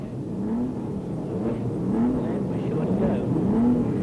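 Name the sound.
1959 racing car engines starting up on the grid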